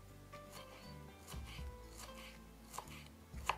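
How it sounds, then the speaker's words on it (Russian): A knife chopping onion half-rings on a board in quick irregular strokes, faint and close, with occasional sharper knocks. "А потом вот эти полукольца беру по пару штук и вот так вот нарезаю."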